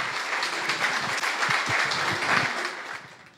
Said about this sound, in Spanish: Nuevamente un aplauso para Paul, por favor.